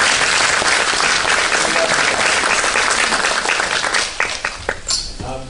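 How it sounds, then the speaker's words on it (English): Loud, sustained round of applause from a summit audience, dense steady clapping that tapers off over the last second into a few scattered claps. "So please join me in a round of applause."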